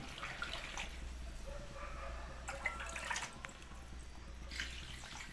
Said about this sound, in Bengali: আমাদের কষা রেডি হয়ে গেছে, এবার জল দিয়ে নিচ্ছি